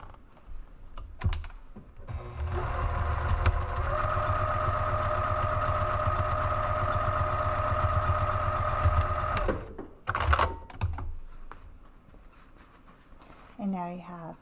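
A sewing machine runs in one long, even burst while stitching the seams of a fabric caddy, whirring steadily for several seconds before stopping, with softer handling noises and brief movement before and after.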